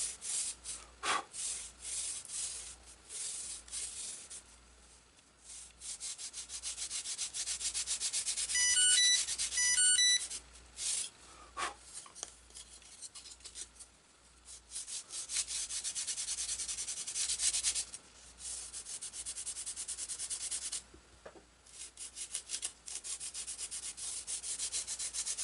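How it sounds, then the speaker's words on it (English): Sandpaper rasps back and forth on a wooden rudder part of a GreatPlanes PT 20 model airplane, a close, rhythmic scratching repeated many times with brief pauses and a faint ringtone chiming partway. "Back and forth a few times and get that angle sanded in."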